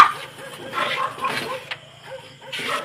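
A tied-up dog gives short barks and whimpers amid agitated human voices, the yelps coming in brief bursts between louder shouting.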